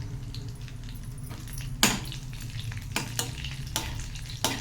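Cumin seeds, green chilies and dried red chilies fry in oil with a soft continuous sizzle, punctuated by a few sharp clicks and scrapes of stirring.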